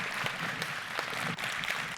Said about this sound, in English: Can we give a round of applause to Ms. Belinda